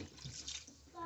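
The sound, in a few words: water poured into pan of sweating peppers and onions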